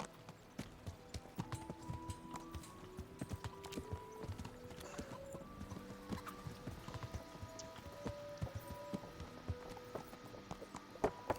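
Horse hooves clip-clop steadily in the Kingdom Come: Deliverance video game, a quiet, regular trot of walking steps carrying on through the whole stretch with a faint background and no talk.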